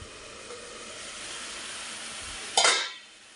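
Onion saagu ingredients frying in a pan, a steady soft sizzle with a brief louder scrape or clatter near the end, then quieting, no speech.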